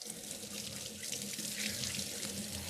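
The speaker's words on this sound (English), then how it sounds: "I'm going to rinse off my fingers real fast." A kitchen tap runs steadily as fingers are rinsed under the stream while making checkerboard shortbread cookies, a close, even splashing rush with no talking.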